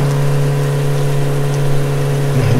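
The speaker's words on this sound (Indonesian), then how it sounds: "Baru juga nih motor dipakai buat ngebut, top banget dah." A motorcycle in a horror cartoon speeding at around 100 km per hour, a loud close engine whine holding one steady pitch and then swelling at the very end.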